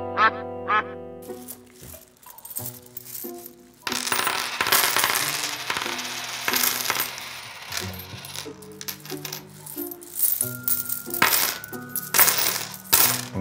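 Coins drop and clatter in several quick bursts, a payment of fifty dollars counted out in change, with bright metallic jingles over a busy background of tones and effects and no talk.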